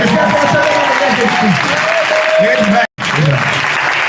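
A congregation at a Pentecost church service claps and cheers loudly and continuously, with voices shouting over the applause and a momentary dropout near the end.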